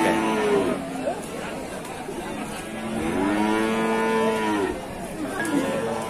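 Young bull cattle at an Indonesian livestock market give several long, drawn-out moos close by, one after another, under steady crowd chatter and talking.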